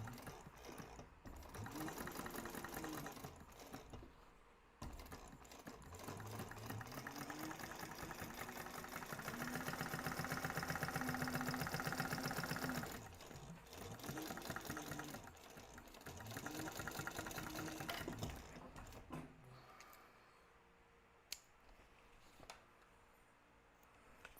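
Sewing machine stitching a crossbody bag, running in several sustained bursts of steady mechanical whir with brief pauses between, then stopping near the end.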